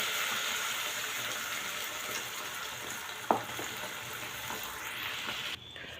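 Spinach gravy with ginger, garlic and cumin fries steadily in a pan, a continuous broadband sizzle with one sharp clink near the middle, then cutting off abruptly before the end.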